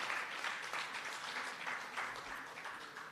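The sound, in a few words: audience applause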